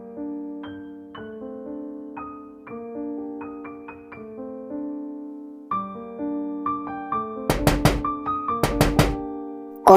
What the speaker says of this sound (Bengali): কোন হালায় আবার দরজা ধাক্কাধাক্কি করে?